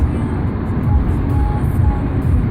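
A Fiat Egea 1.4 Urban's engine drones low and steady while the car accelerates uphill in fourth gear, a continuous close rumble with no gaps.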